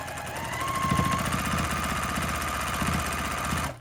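A sewing machine with a quarter-inch foot stitches around a small quilted Christmas stocking ornament, its needle chattering in a fast, even rhythm over a steady motor whir, close and alone without talk.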